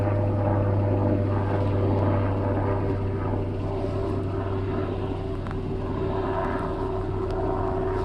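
A military Predator drone with fixed landing gear flies overhead, its propeller engine droning as a steady, fairly loud hum with a strong low tone that holds throughout.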